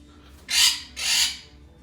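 Baby Quaker parrot giving two harsh, close squawks in quick succession over a quiet low background hum.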